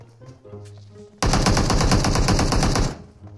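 Automatic gunfire in the mobile battle royale game PUBG Mobile: one loud, sustained burst of rapid shots starting abruptly and lasting under two seconds, close and dominant over faint background game sound.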